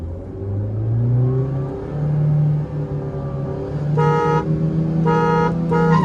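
A Maruti Dzire 2023 and a Maruti Baleno, air conditioning on, idle and rev at the start of a drag race round, steady engine hum rising, then loud repeated horn toots near the end.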